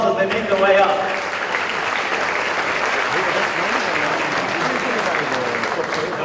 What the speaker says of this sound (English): Let's give both of the gentlemen a big round of applause as they make their way up.